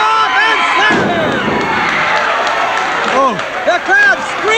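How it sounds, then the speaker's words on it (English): A live wrestling crowd screams and roars loudly and continuously around the ring, with thuds and whistling cheers rising near the end. "The crowd screaming."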